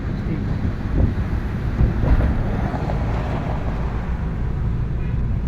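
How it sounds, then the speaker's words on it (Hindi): Water released from a barrage rushes past a river ghat at night, a loud, continuous roar of fast-flowing current with wind buffeting the microphone. "बैराज से पानी छोड़ा हुआ है और वो देखो आप पानी क्या वेग में आ रहा है।"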